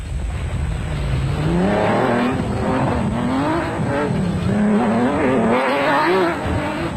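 A South African Nissan Hardbody off-road race truck revs hard during a 2003 off-road race, its engine note climbing and falling through gear changes. It is loud and close throughout, with occasional tyre scrabble.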